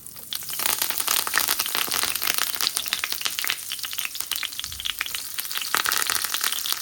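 Urad dal, cumin and curry leaves sizzle and crackle in hot oil for tempering, a close, busy frying hiss with sharp pops throughout.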